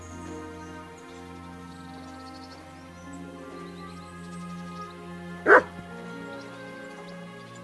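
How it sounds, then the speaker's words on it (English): Dog barking inside the video game Kingdom Come: Deliverance II, a single loud bark sounding out over steady ambient game music and background tones. "Barking."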